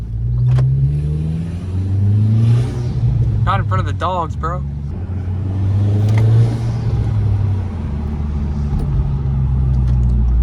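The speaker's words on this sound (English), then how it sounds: "just exhaust noise, you can hear a spool" A turbocharged Honda Accord with custom exhaust revs and rumbles with a rising whistle of turbo spool, loud and close, while people talk over it.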